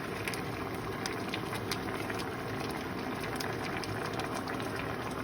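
Pork mechado with tomato sauce simmers in a pot, giving a dense, continuous bubbling hiss at moderate level with frequent small pops, steady throughout.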